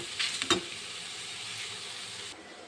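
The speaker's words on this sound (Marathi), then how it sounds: "इथे 2 कांदे आणि 2 टोमॅटो तव्यावर खरपूस असे भाजून घ्यायचे." Two onions and two tomatoes roasting on a hot tawa, a constant close sizzle and hiss with a couple of quick scraping or stirring sounds near the start.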